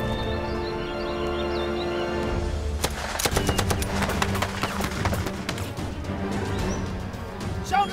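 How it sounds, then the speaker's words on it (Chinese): Rapid machine gun fire in a war film battle scene set during the anti-Japanese war, loud bursts of repeated shots breaking out after a tense music-backed opening and continuing over layered score. "机枪，给我拖住。"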